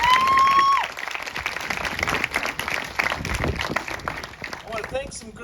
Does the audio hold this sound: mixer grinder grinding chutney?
no